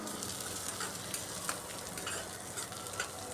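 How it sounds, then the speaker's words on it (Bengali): Onions frying in a pan, heard as a soft, continuous sizzle with occasional scraping stirs and small crackles throughout, with no talking. "এদিকে পেঁয়াজটাও লাল লাল করে ভাজা হয়ে গেছে"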